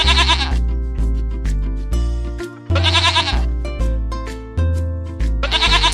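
Goat bleats ring out in short bursts, three or four spaced calls over a bright, stepping musical backing.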